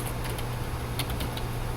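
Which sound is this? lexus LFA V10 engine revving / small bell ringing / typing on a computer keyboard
typing on a computer keyboard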